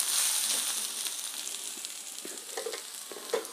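Chansur saag greens frying in a pan on low to medium flame, a steady close sizzle with occasional soft scraping stirs, no voices.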